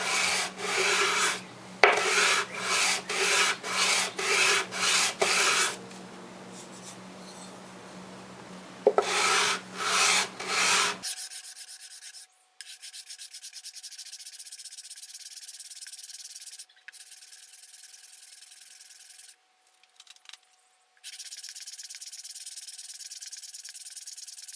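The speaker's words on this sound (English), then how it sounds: "I'm using 150 grit sandpaper on a flat board to smooth out my rough edges and cuttings from the holes that I drilled." Sandpaper of 150 grit rubs by hand on a flat board, rhythmic back-and-forth scratchy strokes in quick runs, close and clear, followed by a steadier continuous rasping scrape.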